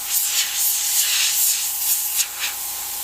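Airbrush spraying Createx Sealer Red Automorph paint, a soft airy hiss in short repeated bursts that swell and fade, close by with no voices.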